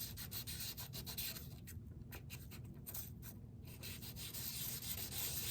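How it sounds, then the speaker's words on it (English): Metal washers are sanded by hand on 320 grit sandpaper, giving a close, steady rasping scrub in repeated back-and-forth strokes over a low background hum, with no talking. "But 320 grit sandpaper, you're not going to hurt anything, and you're resurfacing these washers."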